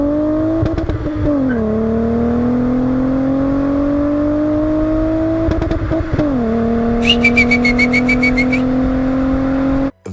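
A Volkswagen Golf Mark III with its VR6 engine revs up twice, each climb followed by a drop to a steady held pitch, with a short high whine near the end and a sudden cutoff.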